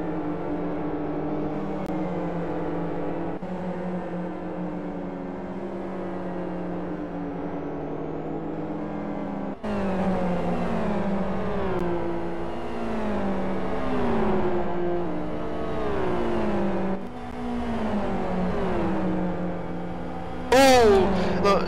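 Super GT race cars, including GT300 class machines, roar loudly past on track during a 2011 qualifying race, engines droning and repeatedly rising in pitch through gear changes, with a sharp high squeal near the end.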